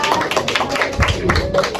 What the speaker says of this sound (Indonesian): Oke, tepuk tangan untuk Mbak Daniela